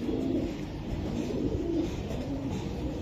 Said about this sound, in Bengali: এই যে কবুতরটা ধরে রাখছে, এটাই সেই কবুতরটা